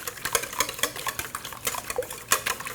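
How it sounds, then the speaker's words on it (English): Five eggs with a splash of milk whisked briskly in a bowl, a quick rhythmic series of light clicking and tapping strokes against the sides, close and fairly quiet, with no talk. "So what I have is 5 eggs with a little bit of milk. Just gonna whisk together real quick."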